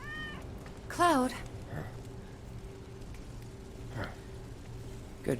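A cat meows in a video game, one clear, loud, rising-and-falling meow near the start, then fainter short meows later over a low game ambience, with a voice speaking briefly.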